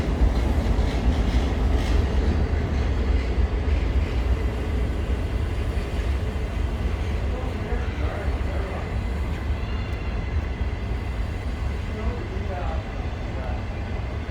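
A train rolls through a station in the rain, a low rumbling drone with faint rhythmic clatter and occasional metallic squeals, steady throughout.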